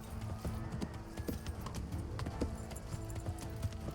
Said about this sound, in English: I wasn't expecting the horse to run towards us.